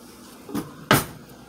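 A desk drawer is pulled open in two quick bumps, a soft slide followed by a sharper wooden knock, close by in a quiet room.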